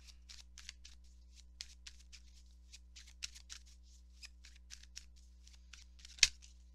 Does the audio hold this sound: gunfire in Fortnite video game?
no